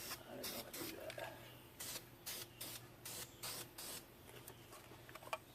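A spray can lays a heavy coat of paint on a truck wheel in a series of short hissing bursts, some longer, with a steady low hum underneath.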